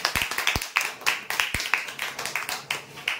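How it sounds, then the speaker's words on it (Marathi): Scattered applause from a small gathering for a lucky draw winner: a loose run of sharp individual claps at an uneven rhythm, moderately close, with no one talking over it. "जोरदार टाळ्या होत्या यासाठी"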